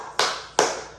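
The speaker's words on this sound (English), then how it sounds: "That clap is for you." Two sharp hand claps about half a second apart, close and crisp, alone in a quiet room after a beginner full-body workout.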